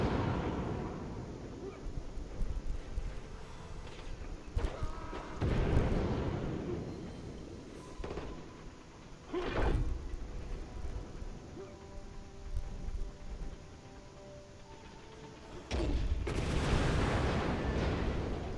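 Heavy gunfire and blasts in co-op Lost Planet 2 combat, a handful of loud booming hits spaced several seconds apart over a rumbling battle background, with voices talking between the impacts.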